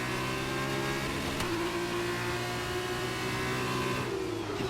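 An F1 race car engine in a video game accelerates out of the pits, holding a steady high-pitched drone with a brief shift near the start, moderately loud and alone.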